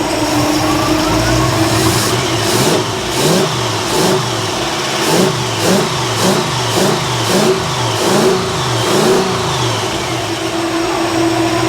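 A cold 1955 Chevy Nomad under restoration, running rough while warming up. The engine is blipped in a rapid rhythmic series of loud revs over a steady idle, heard up close with no talking.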